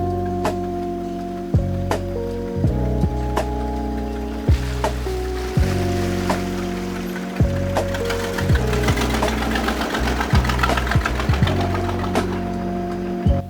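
A 50-year-old farm truck engine running steadily at a low, throbbing idle, with regular mechanical ticks and knocks repeating over the hum, close and fairly loud.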